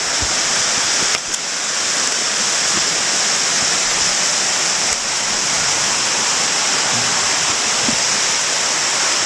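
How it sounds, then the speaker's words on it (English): A small creek waterfall spills over rocks in the bush, producing a loud, steady rushing roar heard close up and alone throughout, with a couple of faint clicks along the way. "have come down to the creek to find some little unnamed waterfalls"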